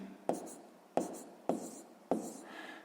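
A math answer written by hand on paper: four short, evenly spaced pen strokes, each a quick scratch fading out, close and quiet.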